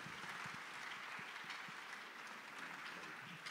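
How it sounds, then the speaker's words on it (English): An audience at a financial conference claps steadily as guests make their way forward, a continuous wash of hand-clapping, fairly quiet and distant, with no talk over it. "let's clap for them as they come around"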